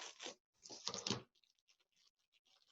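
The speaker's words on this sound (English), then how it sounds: "So I'm going to cut across here." A package being cut open for a sloth plush kit: short bursts of ripping and slicing, then faint scattered rustles, close and quiet with no talk.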